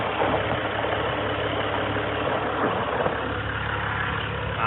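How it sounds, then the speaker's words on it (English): A Ram Rebel truck with a Hemi engine idles close by, a steady loud low rumble that holds unchanged for under five seconds with no talking over it. "sorry if my engine's too loud"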